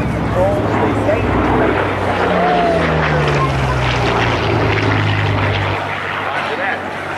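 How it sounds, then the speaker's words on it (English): A B-17 bomber flies past at a Jones Beach warbird airshow, its piston propeller engines a loud, steady rumbling drone that shifts in pitch as it passes, while an announcer talks over a public address system. "Here comes the B-17."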